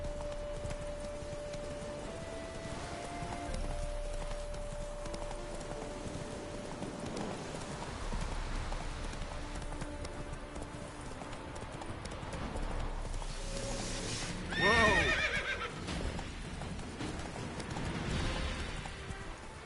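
Roach the horse clip-clops at a steady trot in The Witcher 3: Blood and Wine, hooves beating close over a rain-like hiss, then a brief neigh rises near the middle.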